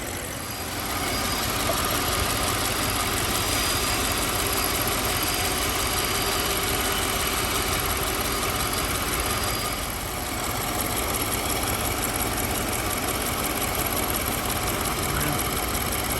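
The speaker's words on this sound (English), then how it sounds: "We're gonna let this idle at operating temperature for like 10 minutes." A warm BMW engine idles steadily during an oil change, making a loud, continuous, even mechanical hum with a fine rapid ticking texture, close up and without talking.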